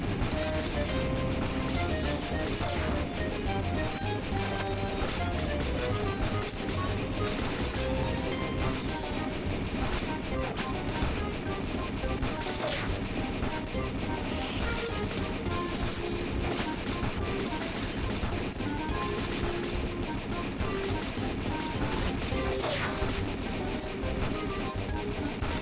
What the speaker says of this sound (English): Both heavy cannon shots were wasted there.